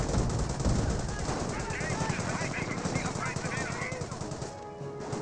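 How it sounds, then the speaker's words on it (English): Auto cannon fire and rifle grenades in Company of Heroes, a dense, continuous run of rapid, punchy bursts, loud and close, with a voice talking over the battle. "trying to get some good auto cannon fire onto these forces"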